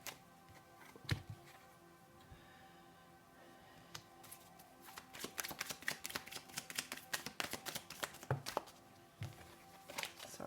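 Tarot cards are shuffled by hand and spill out, giving faint scattered ticks that build into a quick run of flicks and slaps, close by and quiet, with no talking.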